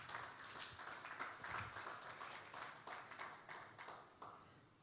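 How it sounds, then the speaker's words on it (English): Audience applause at a Lagos roundtable event in Lekki, a faint, distant wash of many hands clapping that continues steadily for several seconds without speech. "A round of applause for him again."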